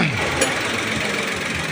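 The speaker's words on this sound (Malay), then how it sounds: "dapat lah dia jadi macam enjin tu nak mati hidup nak mati" A car engine runs roughly as if about to stall, with low uneven knocking and shaky idle vibration, close and fairly loud, without speech.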